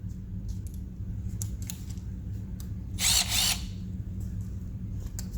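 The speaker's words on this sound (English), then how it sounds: "drill this outer hole out just a little bit with a 5/16 drill bit" A drill gun with a 5/16 drill bit enlarges a hole on a 2012+ Tesla Model S for a mud flap install, giving one short, loud whirring burst of about half a second among faint background taps.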